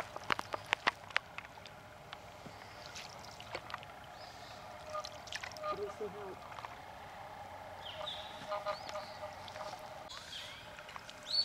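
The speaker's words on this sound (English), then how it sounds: "We're now paddling back upriver." On a river with cypress trees, a boat is paddled upstream in quiet, faint strokes. Sparse knocks and splashes fall at irregular intervals, and soft voices and birds sound in the background.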